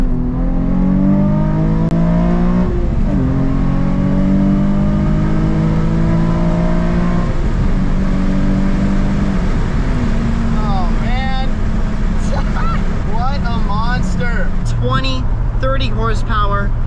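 A white Mustang accelerates hard, with a loud sustained engine roar climbing through gear-like tonal steps, while a person talks over the noise near the end.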